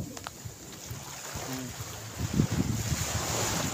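Sea waves wash onto a beach at Marahlee Beach Resort in Santa Magdalena, Sorsogon, with a steady surf hiss and wind buffeting the microphone, and a louder wave surge arrives near the end.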